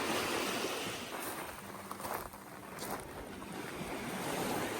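Sea waves washing onto the shore at Odesa, a steady broad roar of surf mixed with wind buffeting the microphone, continuous and fairly loud with no voices.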